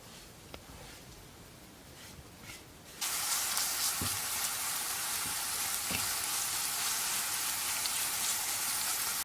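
Onion drops into hot oil in a pan and erupts into a loud, bright frying sizzle that stays steady to the end, after a quieter stretch of low background noise with a few light clicks.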